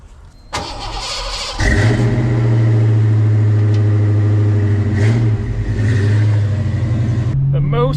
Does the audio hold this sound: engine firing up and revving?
yes